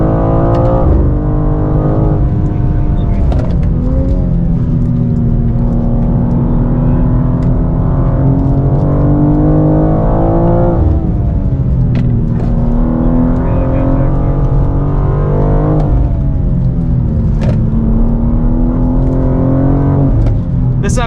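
A 2024 BMW M2 with an 8-speed automatic accelerates hard on a track, its engine note loud and close as it rises, drops at each upshift and climbs again through several gears.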